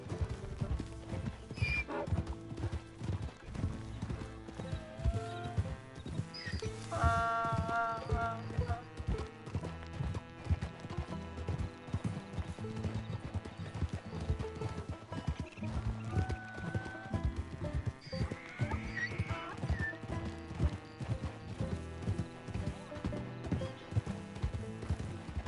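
Donkey hooves clip-clopping in the Red Dead Redemption 2 video game, a steady rhythmic trot under a continuous game music score, with an occasional whinny-like call.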